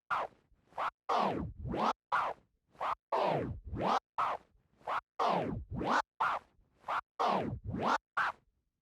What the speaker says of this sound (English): close the fader as I'm moving the record backwards, and then reopen the fader for the fourth sound.